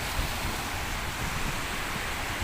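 Strong sea waves wash onto a rocky shore where freshwater outflow mixes with the sea, behind an Esso oil refinery; a steady, dense roar of surf with wind buffeting close to the microphone, no talk.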